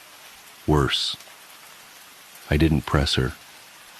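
Steady, soft rain hisses evenly in the background while someone speaks briefly over it.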